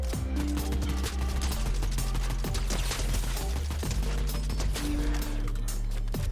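Rapid rifle fire from the buffed Havoc rifle in a video game, dense volleys of shots over a loud, busy mix of game sounds and music.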